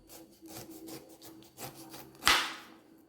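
A knife slices the skin off a pineapple in a series of rough, rasping strokes, each one close and distinct. A louder scraping cut near the end finishes the sequence.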